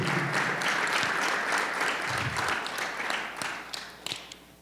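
A church congregation applauds steadily during a sermon, a dense wash of clapping hands that holds throughout and thins slightly toward the end.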